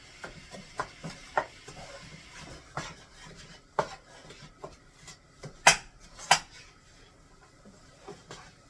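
Metal utensil scraping and clinking against a pan as browned hamburger and onions are stirred together for goulash, giving scattered irregular knocks and clanks with one or two sharper metallic hits, moderately close, with no talking.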